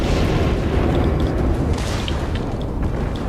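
Continuous heavy rumbling of distant booms and blasts, a dense barrage of naval gunfire explosions in the video game World of Warships, with faint high pings over the roar.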